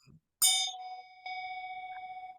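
Bells ring alone on a virtual council call: one bright clanging strike that rings on with a long sustained tone, then a second softer strike that hums steadily to the end.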